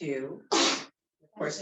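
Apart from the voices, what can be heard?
sneeze during a Pilates class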